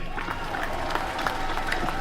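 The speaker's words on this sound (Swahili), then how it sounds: "Makofi kwake." Audience at a Universal Health Coverage conference applauding, a steady patter of clapping hands from a crowd that continues evenly for a couple of seconds.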